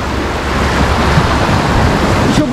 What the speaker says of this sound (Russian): Как время к выходным подходит, так волны начинаются